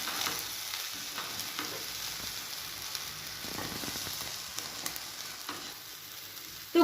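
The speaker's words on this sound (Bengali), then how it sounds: "গরম মশলাটা দেওয়ার পর আমি আরও 2 মিনিট ভালো করে কষিয়ে নেব এর সাথে" Garam masala being stir-fried with soya chunk pulao in a pan, a steady soft sizzle with faint intermittent scraping of the spoon, no talking.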